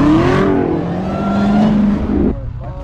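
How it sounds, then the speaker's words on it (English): A nitrous-equipped Corvette at a street race idles and revs loudly up close, its engine note rising and holding steady before dropping off near the end, with no talk over it. "Just the Corvette running right here."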